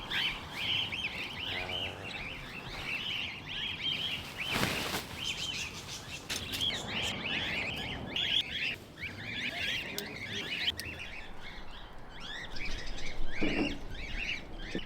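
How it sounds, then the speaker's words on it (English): Birds chirp and call repeatedly in a busy outdoor chorus at a campsite in Australia, with a few louder bursts of noise nearby breaking through the steady twittering. "Scared the birds."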